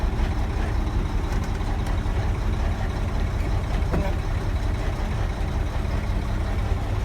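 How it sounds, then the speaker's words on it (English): A truck engine runs at idle after starting, a loud, close, continuous low rumble that holds steady throughout. "Alright, I start the truck."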